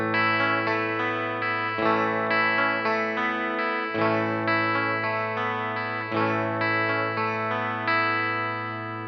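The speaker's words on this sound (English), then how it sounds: "Boy, doesn't that Supro sound good with a Stratocaster, just clean." A clean Stratocaster electric guitar plays a sequence of ringing sus chords through a Supro amp, each struck and left to sustain, close and fairly loud.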